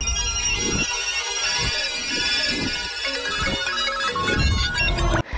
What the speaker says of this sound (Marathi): सगळीकडे तो फोन वाजतायत. सगळे फोन वाजतायत